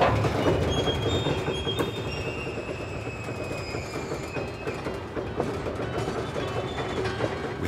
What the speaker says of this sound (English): coal trains rolling through their